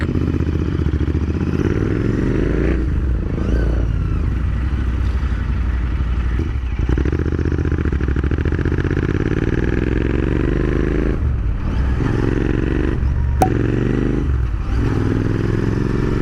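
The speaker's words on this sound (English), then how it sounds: "so that y'all can get a feel how this motorcycle sounds in city traffic" A motorcycle fitted with an aftermarket AEW 102 exhaust riding through city traffic, its loud continuous engine drone rising and falling with throttle changes, close and unbroken, with surrounding traffic noise.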